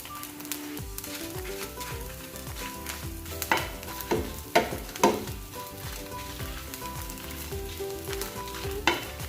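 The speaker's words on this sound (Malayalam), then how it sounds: "എനിക്കിവിടെ ഇല്ലാത്തതുകൊണ്ട് ഞാൻ മസാലപ്പൊടിയാണ് ലാസ്റ്റ് ഇടുന്നത്" Masala powder roasting in a pan for a Kerala crab and plantain curry, a moderate sizzle with uneven stirring scrapes and occasional sharper clacks of a spoon against the pan.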